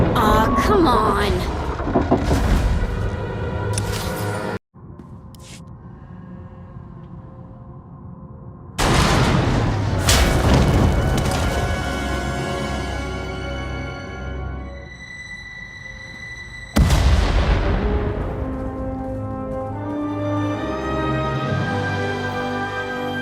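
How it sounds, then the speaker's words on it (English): Heavy explosions in the Star Wars: The Old Republic video game, a few loud booming blasts with rumbling decays that ring out between the bursts. "We heard explosions, the tunnel collapsed"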